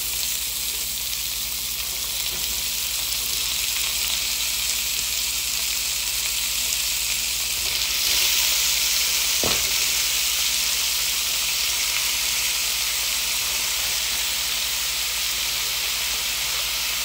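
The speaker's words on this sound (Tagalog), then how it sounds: "ilagay na natin itong karne natin na hiniwa natin sa cubes" Cubed pork for menudo frying in a hot pan, giving a loud, steady sizzle and hiss that runs unbroken from start to finish, with one brief scrape partway through.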